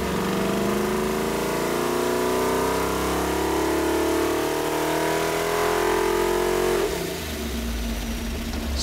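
An alcohol-fueled 383 cubic-inch small block Chevy engine on a dyno revs up hard and steadily toward 6000 rpm, a loud continuous roar rising in pitch for about seven seconds before it drops off sharply.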